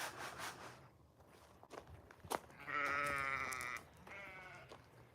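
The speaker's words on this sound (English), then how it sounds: "Hey, goats, come on, goats." Goats bleat on a farm at evening, with several loud, wavering calls close by and some footsteps and rustling between them.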